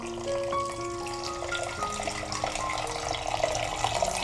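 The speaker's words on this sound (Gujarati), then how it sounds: "તેમાં અરાઉન્ડ 1 થી 2 કપ જેટલું બરફનું ઠંડુ પાણી એડ કરી દઈશું" Ice-cold water pours into a pot of boiled grape rabdi, a short continuous splashing gush with bubbling tones, moderately loud and close.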